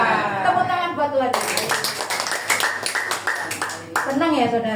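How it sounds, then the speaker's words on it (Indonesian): A church congregation claps hands in a burst of brisk, fairly close clapping between stretches of someone speaking loudly over it. "Tepuk tangan buat Tuhan."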